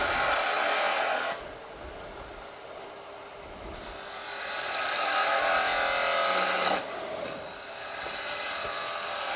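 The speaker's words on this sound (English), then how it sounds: "I'm using a gouge, but any tool would work, including coming in with just a parting tool and taking little bites." A gouge cuts wood spinning on a lathe while a salt shaker is turned, making a loud, continuous, rough whine that eases off briefly after the first second and later surges back.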